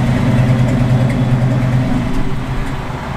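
A 1966 Chevrolet Chevelle convertible with a mild cam sits idling, a steady, close, deep rumble with a slightly lopey pulse, running alone with no talk.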